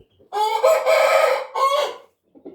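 A rooster crows nearby, one loud drawn-out call broken into two main bursts, then a short faint cluck at the end, heard alone without talk.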